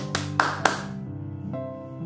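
Hand clapping during a church devotional on Jesus healing two blind men: three quick, sharp claps close together over sustained organ-like tones that ring on after the claps stop.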